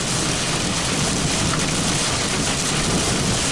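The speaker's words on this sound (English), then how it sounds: "we just got hit with a crazy thunderstorm." Heavy thunderstorm rain pours down at Buffalo Gap in the Badlands, a dense, loud, unbroken roar of drops close by with wind-driven hiss and no speech.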